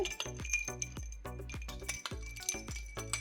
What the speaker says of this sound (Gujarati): એક વખતથી ચમચી આવી રીતે આમ ફેરવી દેવાની છે